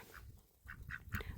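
Several short duck quacks, spaced irregularly against a quiet outdoor background, moderately close.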